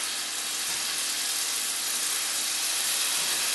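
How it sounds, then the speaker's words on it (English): Tandoori chicken pieces sizzling in a very hot pan, a steady dense frying hiss that stays loud and even throughout with no talking. "You can hear the sizzle."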